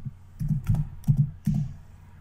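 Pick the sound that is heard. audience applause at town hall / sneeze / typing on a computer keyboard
typing on a computer keyboard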